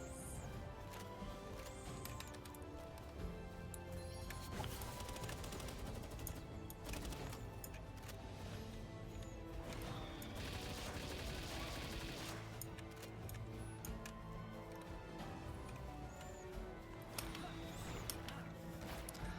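Machine gun fire in the video game Palworld, a dense, continuous clatter of rapid shots and impacts that runs throughout at a low, distant level.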